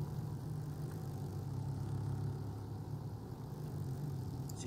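Go-karts with identical engines race on a track, a faint, continuous low engine drone that stays steady throughout with no voices.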